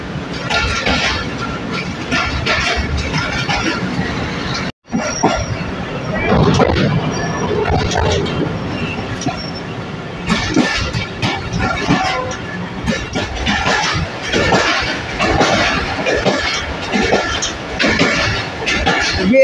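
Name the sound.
Shalimar Express train running on rails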